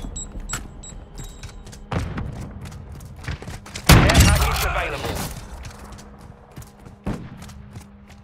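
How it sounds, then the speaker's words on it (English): A cruise missile strike in a Modern Warfare 2 multiplayer match lands as a heavy, close boom that rolls off over a couple of seconds. Scattered gunfire thuds come before and after, under game radio chatter. "Hostiles launched a cruise missile."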